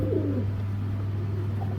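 Pigeons coo softly near the start, then go quiet, over a steady low electrical hum with no talking.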